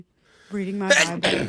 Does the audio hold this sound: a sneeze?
yes